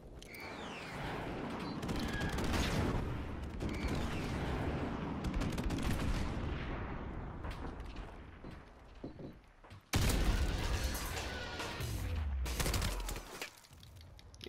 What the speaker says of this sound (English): This scorpion's very good. It's a high rate of fire and it's a very, very stable gun.